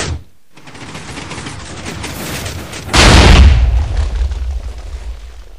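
A TNT cannon test fire in a video game: a sustained rumbling blast of rapid explosions builds, then a much louder boom bursts in near the midpoint and slowly decays into a low roar.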